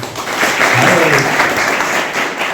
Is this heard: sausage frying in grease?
no